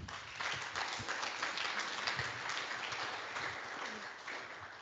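A seated audience at an evening opening event of a lernOS conference applauds steadily, a dense, even wash of many hands clapping that holds at constant loudness from start to finish.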